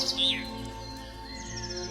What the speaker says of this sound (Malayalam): ആ ഗുഹയ്ക്കകത്തു നിന്ന് നനഞ്ഞ ചിറകുകളോടെ പക്ഷികൾ പറന്നുയരുന്നു.